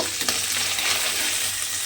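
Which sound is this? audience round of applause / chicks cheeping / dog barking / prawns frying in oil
prawns frying in oil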